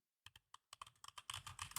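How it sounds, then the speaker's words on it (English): Typing on a computer keyboard to enter a company name into a browser: quiet, close, irregular key clicks that start sparse and speed into a dense, continuous burst toward the end. "typing Blind Light LLC into my browser"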